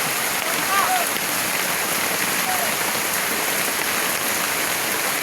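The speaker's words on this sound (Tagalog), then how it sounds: "napakalakas ang ulan oh" Heavy rain pours down in a steady, dense hiss that fills the whole stretch with a constant roar of drops and no letup.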